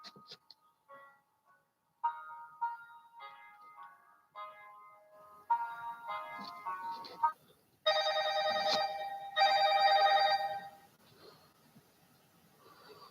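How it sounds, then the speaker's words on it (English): A telephone rings with an incoming call, playing a repeating electronic ringtone melody in short phrases that get louder and denser toward the end before stopping, heard alone in a quiet room. "Got another phone call here."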